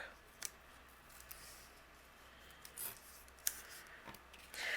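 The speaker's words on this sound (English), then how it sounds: "I'm just going to use my scissors and trim away those corners" Scissors trim the corners of a patterned paper and cardstock card piece, giving several faint, crisp snips spaced irregularly over a quiet room background, with no talking.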